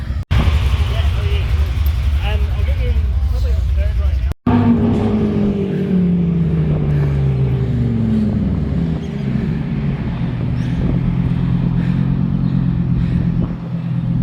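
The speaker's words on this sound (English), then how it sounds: "We've just been running because the STO and a Urus coming" A Lamborghini Huracan STO and a Lamborghini Urus at a sports car gathering: loud engine rumble, then a swooping pass-by as the cars accelerate and shift, with people talking throughout.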